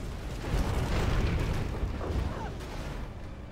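Artillery fire in a real-time strategy game, a continuous loud wash of rumbling blasts and bursts rolling on throughout with no clear gaps, heavy and close.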